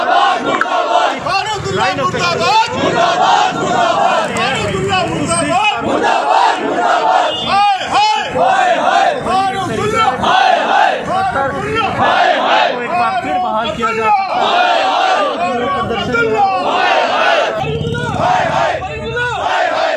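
A loud protest crowd in Jammu and Kashmir chanting slogans against Farooq Abdullah, many voices shouting together in rhythmic call-and-response bursts that continue steadily throughout.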